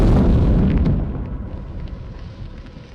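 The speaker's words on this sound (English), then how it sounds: "was spectacularly destroyed by a HIMARS strike" A HIMARS missile strike on a convoy in a dense forest: a loud, deep blast that booms and then rolls away into a fading rumble, with a few faint crackles trailing off.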